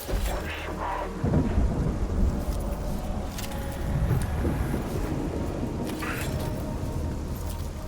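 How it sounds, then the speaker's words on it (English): Rumbling thunder over steady rain from a stormy planet in the strategy video game Mechanicus 2, a continuous broad wash of noise with rolling low swells, moderately loud and unbroken. "Angry lightning in the meantime."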